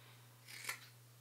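A single crisp snip of scissors trimming the fabric corner pieces of a sewn winter jacket, quiet and close, with near silence before and after.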